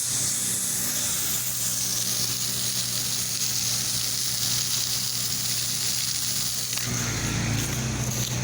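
Steady broadband hiss of a pressure washer spraying chemical through an M5 twist nozzle onto concrete during a house wash, continuous and fairly loud throughout, with the tone shifting lower and rougher near the end.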